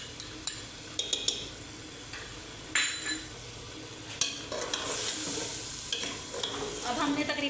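Mutton korma with salt, chili and turmeric sizzles steadily in a pan while a spoon stirs and scrapes, with occasional sharp clinks of metal against the pot, close and continuous.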